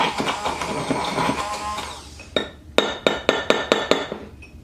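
A creamy baked potato corn chowder mixture with flecks of pepper and onion is stirred in a bowl, first as a busy stretch of wet scraping and clatter. Then come a series of sharp, evenly spaced clinks of a utensil against the bowl.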